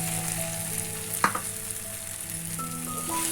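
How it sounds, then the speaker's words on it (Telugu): Chopped mushrooms fry in hot oil with a tomato puree base, hissing in a steady close sizzle with one sharp clatter as they go into the pan, then an even bubbling fry; no voices. "ఇందులో మనం కట్ చేసుకున్న మష్రూమ్స్ వేసుకుందాం."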